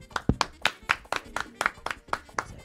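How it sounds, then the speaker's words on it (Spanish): Hands clapping in a steady, even rhythm, about ten crisp claps close by, as brief applause in a merengue music talk show setting. "Otro aplauso por eso"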